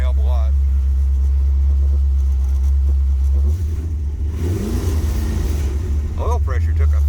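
A 1973 Plymouth Satellite with a 451 stroker engine runs loud and close as a heavy, steady rumble with a deep low throb. The tone shifts midway as the engine note changes, and people talk over it.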